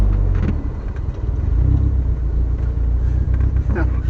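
A 1988 Chevy S10 pickup truck engine rumbles low and steady while driving, with people talking over it.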